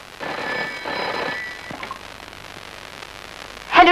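A telephone rings indoors in a home scene from a Hindi film, with two fairly loud bursts of bell-like ringing followed by a quiet room and a short clatter at the end.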